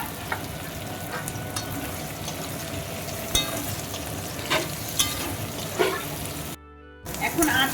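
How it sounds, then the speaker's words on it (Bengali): Chopped onions fry over full heat in a pan while being stirred and turned, giving a continuous sizzle with repeated scraping strokes; faint background voice and a brief dropout near the end. "কেটে রাখা পেঁয়াজগুলো, পেঁয়াজগুলো একটু নাড়িয়ে চাড়িয়ে এপিট ওপিট করে একটু ভেজে নিব।"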